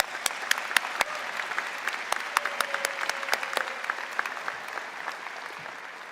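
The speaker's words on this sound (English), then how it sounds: "Can I please ask you in joining me in a round of applause for all the people who have helped you get here today?" A convocation audience delivers a sustained round of applause, a dense wash of many hands clapping at moderate distance, with a few sharper nearby claps standing out and no voices over it.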